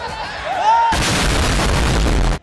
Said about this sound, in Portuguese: Essa explosão em seu rádio foi Valdemar que acabou de cair